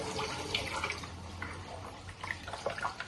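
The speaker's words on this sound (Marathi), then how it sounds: "आणि मग ह्याला चांगलं पाणी धुवून घ्यायचं डब्बामध्ये" Water sloshes and splashes steadily as taro leaves for alu vadi are washed in a container, with soft trickling and small splashes throughout.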